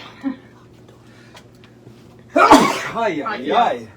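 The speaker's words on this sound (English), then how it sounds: "That's embarrassing, sneezing on one." A single loud sneeze bursts out near the middle after a quiet stretch, followed by a person talking briefly.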